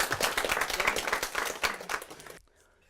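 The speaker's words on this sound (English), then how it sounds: "let's give them a big round of applause" A school crowd applauds a student championship team at a social studies biathlon event. The clapping is loud and steady for over two seconds, then stops abruptly into near silence.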